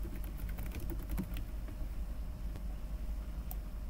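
A card number is typed on a computer keyboard while naming RFID checkpoint tags in guard-tour software. Quick, light key clicks come in an irregular burst over a steady low background hum, and nobody speaks.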